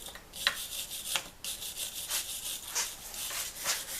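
A brush scrubs oxidation off a bicycle chain in short, rough strokes, about six bursts of bristly rubbing at an uneven rhythm, close and moderately loud with no talk.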